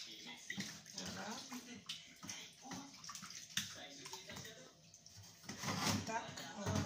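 Water poured from a container over raw beef tripe in a bowl during kitchen preparation, a steady close splashing and trickling with occasional knocks.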